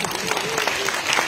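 Audience applause at a Raju Midda comedy show in Siliguri: a short burst of steady, dense clapping from a crowd, fairly loud and continuous.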